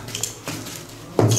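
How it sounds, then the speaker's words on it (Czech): A knife slices through carpet underlay, guided along an aluminium gripper strip. Short, close scraping strokes come first, then a louder, sharper cut near the end. "Přihladíme nůž, opřeme aluminací lištu, zařízneme"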